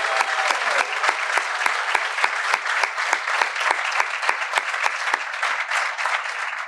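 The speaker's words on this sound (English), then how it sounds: "I want you to give her a thunderous round of applause" An audience gives sustained, loud applause for an honoree, the Urban League Guild Member of the Year, at a bank branch ribbon cutting in St. Louis: dense steady clapping throughout, with no voices.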